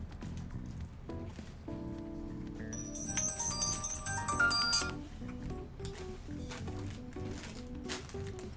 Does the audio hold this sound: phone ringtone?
yes